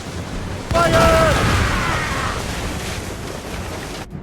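Naval cannons boom in Assassin's Creed Rogue during a sea battle, a sudden loud blast followed by a long rumbling decay, with a shouted voice over the start.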